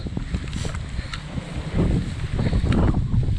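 Gusty wind buffets and roars against the microphone on the Appalachian Trail near Lehigh Gap, with light rain, rising and falling in strength, with rustling noise underneath and no talking.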